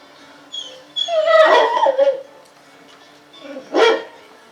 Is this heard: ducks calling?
no